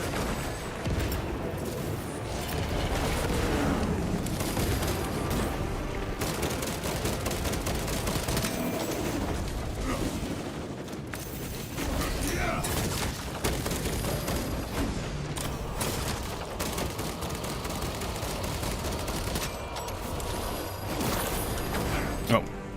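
Frag grenade and sustained gunfire in a co-op shooter on max difficulty: dense, continuous rattling shots and bursts fill the scene, with occasional heavier booms and voices talking underneath.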